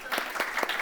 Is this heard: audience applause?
yes